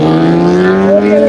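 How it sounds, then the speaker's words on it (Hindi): Kawasaki Z900 motorcycle engine downshifting on a road ride, a loud, steady low exhaust drone with a brief blip in pitch near the end, close and continuous without speech. "और ये देखिए गाइस डाउन शिफ्ट।"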